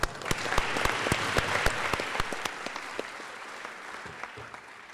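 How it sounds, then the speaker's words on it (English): At a high school senior awards ceremony, an audience claps for the senior class, sharp individual claps standing out near the start before settling into a thinner, fading round of applause. "we would like to do that right now with a nice round of applause"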